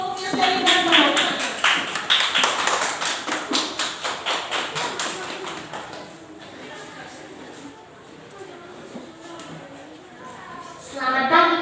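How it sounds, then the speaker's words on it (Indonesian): Classroom applause for a student group's presentation, brisk rhythmic clapping from many students that is loud at first and then fades into quieter murmuring and talk, swelling slightly again at the end. "Kasih tepuk tangan dulu untuk kelompoknya Selin dan teman-teman"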